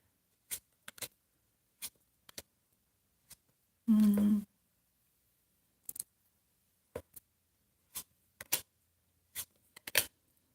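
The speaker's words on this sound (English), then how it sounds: "I'm gonna pull some cards" Tarot cards pulled and handled during a live reading, giving sparse, sharp card snaps and flicks spread across the clip, with one brief voiced sound in the middle.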